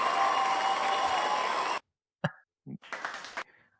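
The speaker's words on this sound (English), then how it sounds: "Wow, cue the clapping." A clapping and cheering sound effect plays loudly for under two seconds as dense crowd applause, then cuts off abruptly, and people speak afterward.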